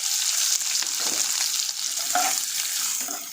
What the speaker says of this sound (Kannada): ಎಣ್ಣೆ ಸಾಸಿವೆ ಸಿಡಿದ ಈರುಳ್ಳಿ ಕರಿಬೇವು ಒಣಮೆಣಸಿಕಾಯಿ ಹಾಕೋತಾ ಇದ್ದೀನಿ